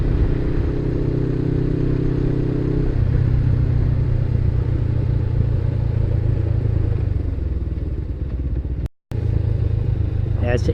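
A Suzuki SG500 motorcycle rides along the road with a steady, loud engine drone and wind rush throughout, pitch shifting partway through and cutting out briefly near the end.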